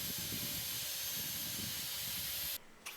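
A nylon abrasive wheel brushes ash wood to reveal the grain, giving a loud, steady broadband hiss that runs unbroken for about two and a half seconds and then cuts off abruptly.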